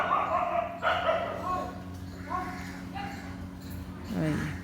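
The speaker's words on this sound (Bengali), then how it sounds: "আর এই কুকুরগুলো এত চিৎকার করে না" Several neighbourhood dogs bark and yip in short repeated bursts, moderately close, with a whimper near the end and faint background noise between the barks.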